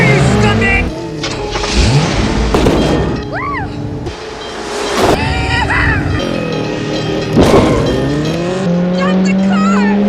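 A car engine revs hard while tires squeal in rising and falling chirps during a dangerous stunt, with loud bursts, a booming impact and shouting voices mixed in over the roar.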